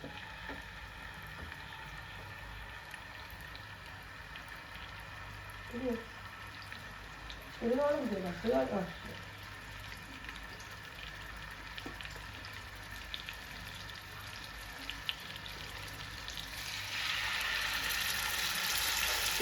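Chicken fries in coconut oil in a pan with a faint, steady sizzle running underneath. A voice speaks briefly in the middle, and the frying grows louder and brighter near the end.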